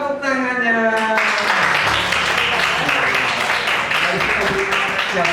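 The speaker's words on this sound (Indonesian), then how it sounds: "Bagus, tepuk tangannya" A classroom of students bursts into a dense wave of clapping right after a brief sustained voice, the applause loud, close and continuous to the end.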